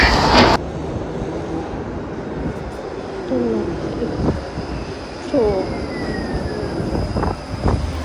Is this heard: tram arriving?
yes